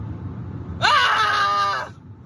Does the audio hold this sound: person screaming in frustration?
yes